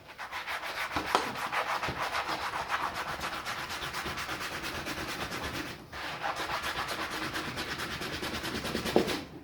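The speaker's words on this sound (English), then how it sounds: "And give it a bit of a scrub." Steady rhythmic scrubbing of a shabby upholstered seat from a ZK Fairlane during interior cleaning, a continuous close brushing rasp with one brief pause midway and no talk.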